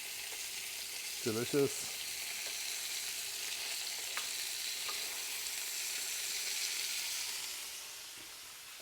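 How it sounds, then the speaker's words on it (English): Spring lamb chops sizzle in a hot pan with a steady, soft frying hiss throughout, broken briefly near the start by a short spoken word. "Turn these chops over."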